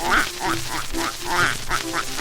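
Several ducks quack in quick, uneven bursts, fairly close and loud, overlapping one another without pause.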